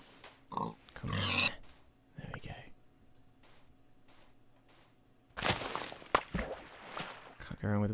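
Short bursts of Minecraft pig grunts and oinks come in scattered clusters, close and fairly quiet, with soft game-like clicks and rustles between them.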